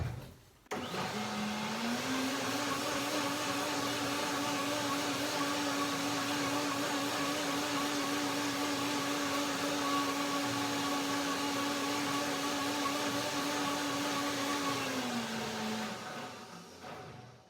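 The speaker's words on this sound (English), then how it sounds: "the sound of the blender also tells me when it's done" A blender runs steadily and loudly for about fifteen seconds, blending raspberries, pear and persimmon into a pudding, its motor whirring at an even pitch before winding down at the end.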